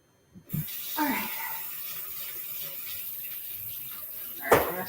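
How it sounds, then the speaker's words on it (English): A kitchen tap runs while someone washes their hands during holiday cooking, a steady moderate splash of water with brief bumps and clatters at the start and near the end. "let me wash my hands"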